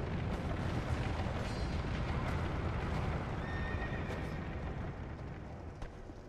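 Executioner's Chariot horses in Dark Souls II whinny over a loud, dense backdrop of rumbling hooves and game noise, the neighs brief and layered within the continuous din.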